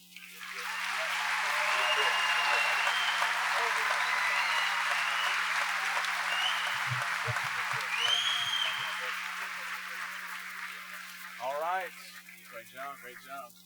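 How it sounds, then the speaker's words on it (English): Sustained crowd applause at a church event honoring a wounded Iraq veteran and former M1A1 Abrams tank commander, swelling quickly to a steady roar and tapering off, with a few voices and whoops near the end. "give us a round of applause one more time"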